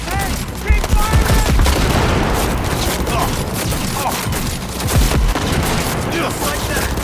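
Dense, continuous gunfire and bursts of automatic weapons in the video game Cyberpunk 2077, loud and close, with occasional voices shouting beneath the barrage.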